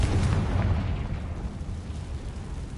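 A Confringo spell explodes in the Hogwarts Legacy video game with a deep, booming blast, followed by a low rumble that slowly fades.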